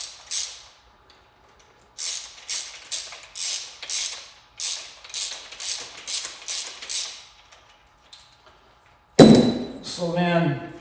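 A 19 mm tool tightening a part on MX-Tech Ravens motorcycle forks, heard as a long run of close, rhythmic ratcheting clicks in short bursts, followed by a sharp metallic clank and a brief creak.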